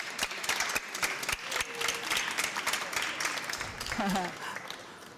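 A graduation ceremony audience claps for the staff, a moderate patter of many hands spread through the hall, with a speaking voice and murmurs running over the clapping.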